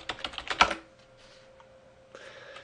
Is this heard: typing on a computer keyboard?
yes